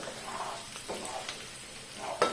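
An egg fries in a pan with a moderate, steady sizzle and a few light stirring scrapes, ending in a sharper clink, with no voices.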